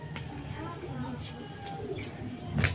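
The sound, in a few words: pigeons cooing near a pigeon loft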